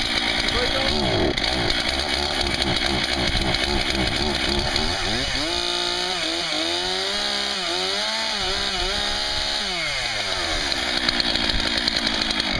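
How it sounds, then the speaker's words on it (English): A chainsaw just started from cold and settling into a rough, loud idle at close range, its engine note wavering and bogging, with a person speaking over it. "so now the saw is started"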